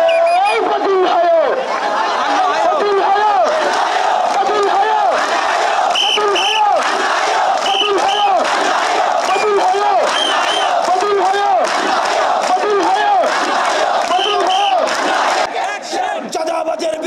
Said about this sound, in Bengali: একটা স্লোগান দিয়ে শুরু করতে চাই